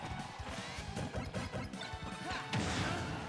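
Smash attacks from Mega Man, Sora and Yoshi land in a Super Smash Bros. grand finals tournament match, a busy run of sharp crashing hits and thwacks over constant game effects and music.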